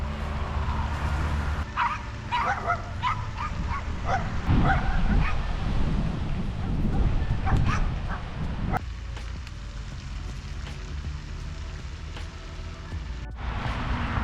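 Dogs bark and yip near a fishing pond in Fort Worth, several animals in irregular bursts, fairly close, with some whimpering among them before the barking thins out.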